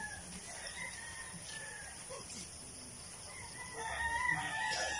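Young gamecocks, stags being readied for a stag derby, crow at a distance against steady outdoor background noise. A louder burst of sound comes near the end.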